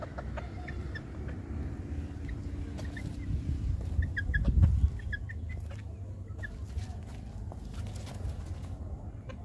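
Fancy ornamental hens and a rooster kept mostly in a cage, clucking in short scattered calls at moderate distance over a low outdoor rumble, with a slightly louder burst midway.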